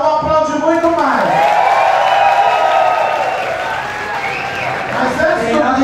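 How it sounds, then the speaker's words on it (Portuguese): Crowd applause and cheering for birthday guests in a nightclub, a loud sustained wash of clapping beneath a host's amplified voice and whoops. "Queria pedir os aplausos dos aniversariantes."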